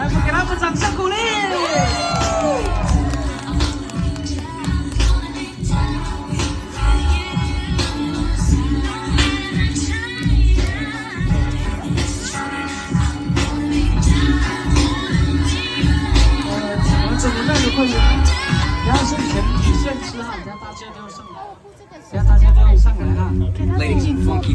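A crowd at the 2023 Smangus community music gathering cheers, whoops and shouts over a continuous loud hubbub, with children's voices and talk mixed in; the noise holds steady for about twenty seconds, dips briefly, then surges back.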